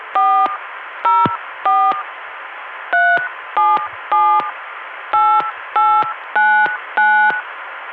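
A telephone keypad dials a number in crisp touch-tone beeps, ten evenly spaced dual-tone bursts in an irregular rhythm, loud and close on a quiet 1981 phone line with no talking.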